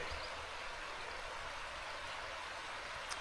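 The Sulajoki river in Lemmenjoki National Park, Finnish wilderness, flowing as a steady broadband rush of stream water, continuous and close, with no voices.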